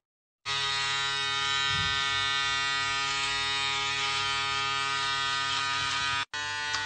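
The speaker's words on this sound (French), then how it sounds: "Je me rase." A man shaves with an electric shaver, a loud, steady close-up buzz that runs without a break for several seconds, cuts out briefly near the end and then resumes.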